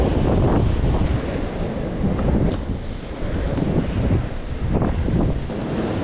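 Stormy sea waves wash and roar continuously on a beach while strong wind buffets the microphone, with surges of surf rising and falling throughout.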